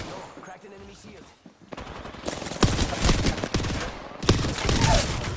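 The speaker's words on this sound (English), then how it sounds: "The enemies are shooting at me. Taking fire." Sustained enemy gunfire in Apex Legends, a ranked Diamond match: after a quieter opening, dense bursts of automatic shots erupt loud and close, rattling on with a short lull before another heavy volley.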